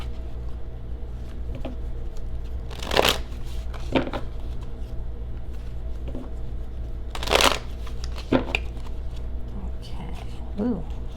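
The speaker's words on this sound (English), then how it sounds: "Shuffle again." Tarot cards being shuffled in two distinct riffling bursts several seconds apart, close and crisp, with softer card taps between, under a low steady background hum.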